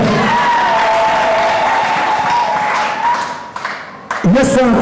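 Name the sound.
congregation applauding in church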